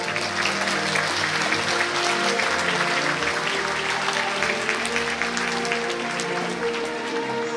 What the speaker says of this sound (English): Let's give all our K2 graduates another big round of applause,